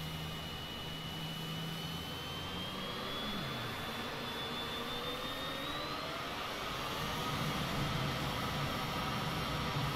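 Jet airliner with flaps set full, engines spooling into a steady loud roar with a whining high tone that rises slowly, heard from inside without talk.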